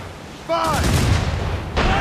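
Heavy cannon fire booms from a ship broadside in Assassin's Creed Rogue naval combat, a loud blast followed by rumbling and a second shot near the end, with shouted crew voices under the din.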